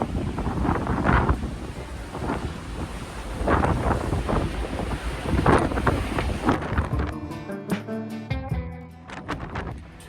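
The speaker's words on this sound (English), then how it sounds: "Pretty windy this afternoon, just leaving Malaga." Strong wind buffets the microphone in loud, gusting waves of roaring noise aboard the cruise ship Queen Anne leaving Málaga, easing into quieter rustling toward the end.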